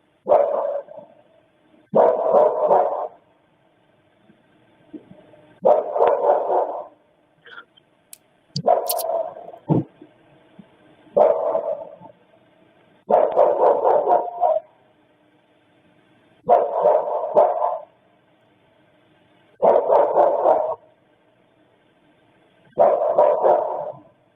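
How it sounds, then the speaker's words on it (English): Repeated bursts of high-pitched dog barking come in regular clusters, each a quick run of sharp yaps separated by short silences, close and fairly loud. "we're going to listen to dogs barking"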